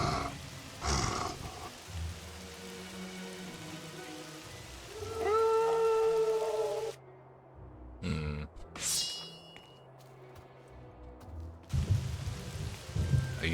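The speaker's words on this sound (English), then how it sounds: "Now it starts raining." Rain falls in the video game Fable Anniversary as a steady hiss, with low grunting game sounds and short tonal effects breaking through; the rain drops away briefly midway before returning.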